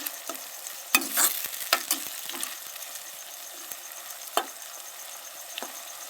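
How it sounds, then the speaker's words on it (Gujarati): Frying in a pan while being stirred for an egg and prawn chingri dish, a soft steady sizzle broken by several scraping spatula strokes and clinks, close and alone. "થોડી વાર એમ ફ્રાય કરશું આપણે."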